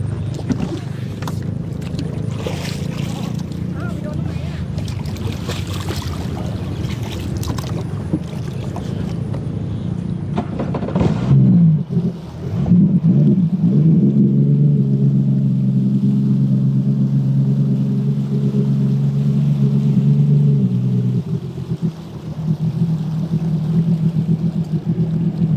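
A jet ski engine drones nearby, its low rumble steady and strong, then shifting pitch and fading slightly as the craft moves across the water.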